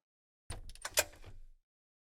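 A door opens with a roughly one-second burst of sliding, rattling noise that ends with a louder knock near the middle, set against silence before and after.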